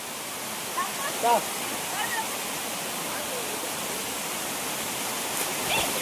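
Hemnagar waterfall pours in a constant, dense roar of rushing water close by, with a few faint voices calling briefly through the noise.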